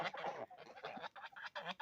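Young geese in a small home zoo give a string of nasal honking calls in short bursts, fairly close, with a person talking nearby.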